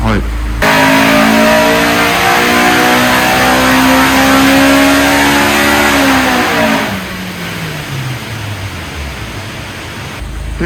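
A car on a Mainline ProHub chassis dynamometer revs hard toward 8500 rpm, its loud, rising engine note holding high before dropping away and winding down for the last few seconds.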